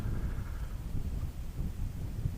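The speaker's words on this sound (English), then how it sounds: "as you can probably hear, it's quite windy" Outdoor wind rumbles across the microphone in steady low buffeting gusts, close and constant over a couple of seconds, with no voices.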